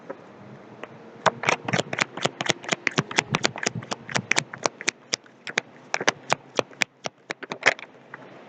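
Rapid crisp riffles and snaps from a deck of playing cards being shuffled up close, dozens of quick clicks in bursts over several seconds, no voices.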